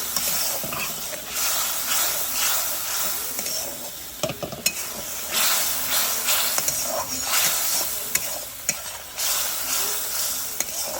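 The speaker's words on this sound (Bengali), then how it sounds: "এবার মশলাটা একটু ভাজা ভাজা করে নিচ্ছি" Spice paste fries in oil over a low gas flame, a continuous close hiss and sizzle with intermittent stirring scrapes and occasional sharp clicks of the spoon against the pan.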